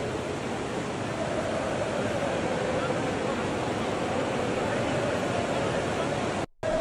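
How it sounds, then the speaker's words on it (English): Rainwater cascades off the roof of Old Trafford stadium in a heavy downpour, a loud, continuous rushing roar like a waterfall, steady and unbroken apart from a brief dropout near the end. "There is the Old Trafford waterfall."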